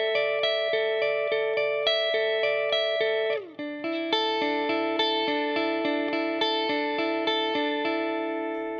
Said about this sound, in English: what the electric guitar does is this sort of arpeggiated figure that sounds like this